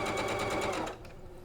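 A sewing machine stitches through a bulky quilt block seam, a rapid rhythmic mechanical chatter for about a second before it slows and stops.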